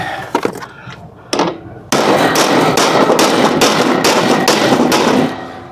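Repeated loud metal hammer strikes on a sign post, several sharp blows at a steady rhythm, preceded by a few lighter taps, with no talking.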